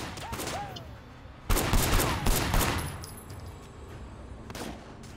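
Gunfire in the video game Sleeping Dogs: a loud burst of rapid shots erupts after a quiet start, followed by scattered single cracks fading out.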